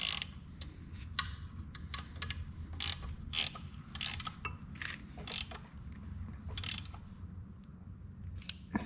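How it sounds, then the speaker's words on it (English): A ratchet wrench clicks in irregular bursts while fitting a U-joint and flywheel on a Bobcat 843 engine, the quick close ratcheting sounds coming in short runs over a faint background hum. "Here, use that ratchet."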